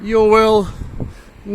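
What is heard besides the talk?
No everyday noises stand out.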